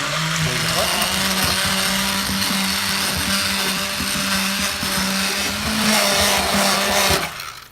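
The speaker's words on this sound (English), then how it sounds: "This is an immersion blender." An immersion blender purees canned tomatoes, whirring steadily and loudly in a constant motorized drone that cuts off abruptly at the end.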